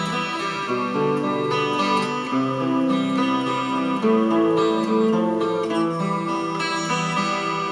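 Acoustic guitar playing the intro to a song, a repeating picked pattern of plucked notes at a steady, moderate pace, close and alone without speech.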